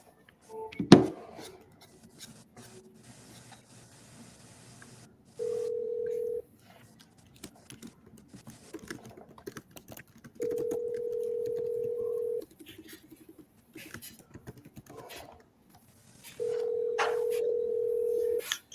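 A phone dials out to call someone: three separate steady touch-tone beeps, each lasting a second or two and spaced several seconds apart, with faint handling clicks and rubbing in between.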